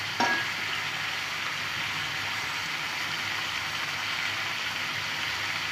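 Chicken fries in a pan with spices, salt and turmeric for chicken kasha, a continuous dense sizzle that stays close and even throughout, opening with a brief clatter.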